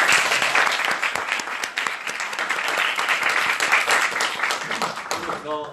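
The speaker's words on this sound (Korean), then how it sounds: "박수 한번 부탁드립니다" Audience applause at the close of a permanent residency seminar, dense continuous clapping from a crowd filling the room, with a few voices faintly under it.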